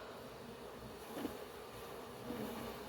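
Honey bees from a swarm being moved to a new hive give off a soft, continuous buzz, faint and steady, with a few closer fly-bys.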